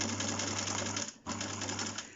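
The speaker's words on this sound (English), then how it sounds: "so now I'm sewing downwards." A sewing machine stitches a lapped zip in a steady, fast mechanical whir with a regular humming pulse, pausing briefly near the middle before resuming close and clear.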